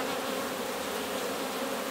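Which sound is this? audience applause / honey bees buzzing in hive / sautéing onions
honey bees buzzing in hive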